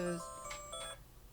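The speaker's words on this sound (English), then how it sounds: "There's my alarm." An alarm going off with several short electronic tones in a quick melodic sequence, faint and thin, in a quiet room.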